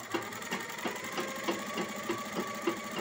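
A sewing machine stitches fabric with a steady mechanical whir and regular clicking needle strokes, close and moderately quiet, with no talking.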